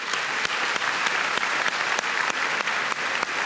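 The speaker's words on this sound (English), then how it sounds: "Now give yourselves a round of applause too." Dense, steady applause from a studio audience at a televised Q&A panel in Parliament House, with many hands clapping together at a constant loud level throughout, no voices standing out.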